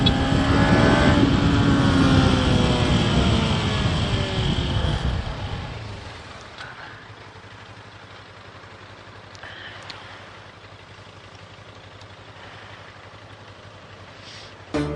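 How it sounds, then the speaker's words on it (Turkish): A motorcycle passing from behind on a night road, loud engine roar with a falling pitch sweep as it goes by, then fading to a low steady hum of distant traffic, no voices. "Arkamdan motor trafik geliyor arkadaşlar."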